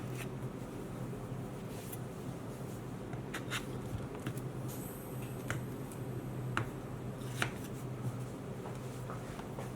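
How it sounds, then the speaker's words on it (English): A knife slicing through a tray of Egyptian basbousa, a semolina cake, before baking. Soft, faint scraping strokes with a few light clicks against the pan, quiet and close, over a low steady background hum. "I'm just going to cut straight through the middle like that"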